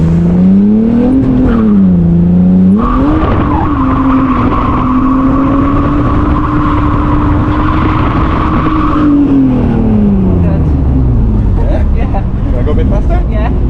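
A real car being drifted, its engine revving hard and loud with pitch climbing and holding, tire squeal layered over it for several seconds, and people talking beneath the engine noise.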